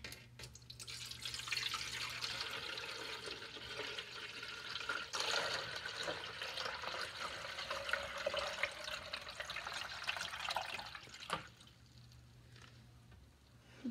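Water poured from a pitcher into a detached Keurig coffee maker reservoir, a continuous soft splashing and trickling stream that runs for over ten seconds before tapering off, fairly faint and close.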